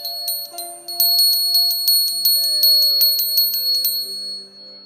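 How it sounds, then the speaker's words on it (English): A small bell is struck repeatedly in quick succession to close a Reiki meditation, bright ringing tones layering and sustaining near and clear, with no voices. "I'll ring a bell to kind of bring us back a bit."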